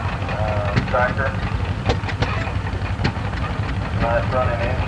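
A John Deere tractor engine running smoothly at a 1987 early-day tractor and engine show in Texas, a steady low rumble with faint knocks, heard from a moderate distance under background crowd noise.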